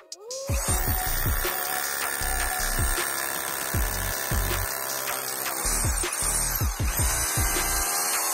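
A Makita HR2470 rotary hammer drill runs in repeated bursts, its motor whine rising and falling with each start and stop, loud and close throughout.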